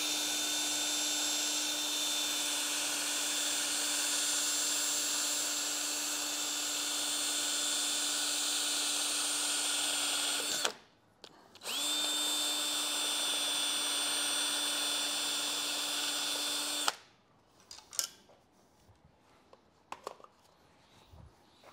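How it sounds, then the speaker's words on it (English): A power drill runs steadily while cleaning around the edge of a metal rotary table, a loud continuous high whine with one brief stop near the middle, then it winds down and falls silent, leaving faint scattered handling noises. "get the drill and get around the edge here"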